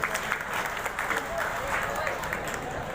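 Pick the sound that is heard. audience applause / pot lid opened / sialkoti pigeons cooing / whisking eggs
audience applause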